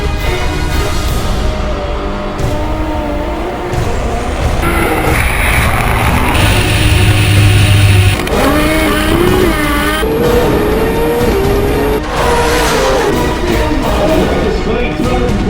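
Factory Xtreme four-cylinder drag racing car at the 2012 Winternationals in Australia, engine screaming at high RPM with loud, rising and falling revs and bursts of acceleration, close and dominant, with a crowd or announcer faintly underneath.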